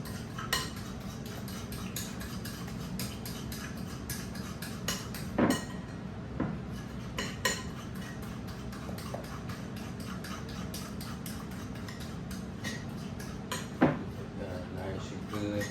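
A fork beats eggs in a bowl in quiet, quick, irregular clinks and taps that run throughout, with occasional louder knocks against the bowl.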